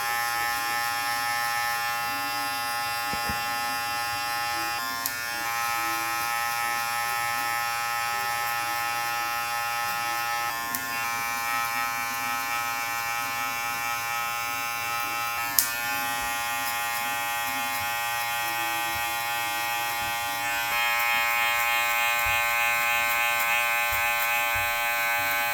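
Electric hair clippers with a 3 guard and the lever open, blending a mid fade, hum steadily and close up for the whole stretch, with small clicks here and there and a slight lift in tone near the end.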